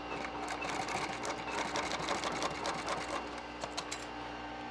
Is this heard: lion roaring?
no